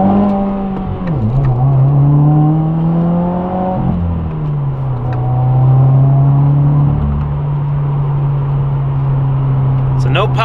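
A Subaru WRX with the muffler deleted pulls hard under acceleration, a loud, droning exhaust tone rising through the gears with shifts in pitch, heard from inside the car while a person talks over it.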